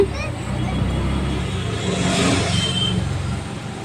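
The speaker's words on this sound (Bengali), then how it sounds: "এবার অটোতে উঠে পড়েছি আমরা অটোতে করে এবার যাচ্ছি" An auto rickshaw rolls along a road, its engine a steady rumble that swells briefly as it speeds up, with passengers' voices and street babble faintly mixed in.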